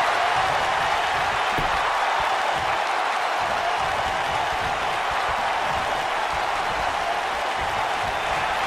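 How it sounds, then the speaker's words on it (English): In the WWE 2K19 video game, an arena crowd roars during a wrestling handicap match, making a dense, continuous wash of cheering and applause at a steady loud level throughout, with no clear speech over it. "Listen to this crowd."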